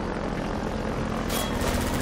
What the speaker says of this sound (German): Der nächste Heli, Mensch.